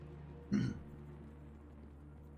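A single short cough, faint and close, followed by quiet room tone and a small sound at the very end.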